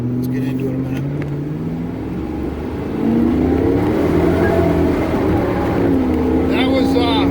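Supercharged 1992 Lincoln Mark VII accelerating hard with tires spinning, a loud droning engine note rising in pitch and holding steady from inside the car, with a voice speaking over it.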